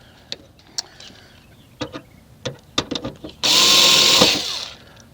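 A power drill drives in a bolt, preceded by a series of sharp, close clicks and taps, then one loud whirring burst of about a second before it cuts off.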